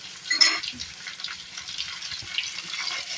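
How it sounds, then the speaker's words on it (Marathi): Vegetables with tomato sautéing in a pan for spring roll filling, a steady soft sizzle with occasional stirring scrapes, close by and without talk. "या तिन्ही भाज्या छान अशा आपण परतून घेऊया."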